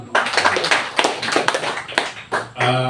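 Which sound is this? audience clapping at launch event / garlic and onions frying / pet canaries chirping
audience clapping at launch event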